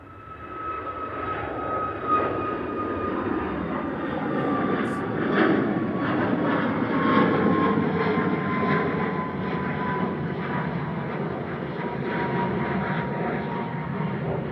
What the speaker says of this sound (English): Departing now is Ryanair 3445 to Palma de Mallorca,